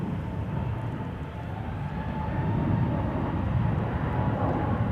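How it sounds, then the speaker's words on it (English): A wide-body airliner takes off from the center runway at Schiphol, giving a steady, heavy low roar of jet engines that swells slightly and holds without pause. "Another wide body from the center runway just now taking off."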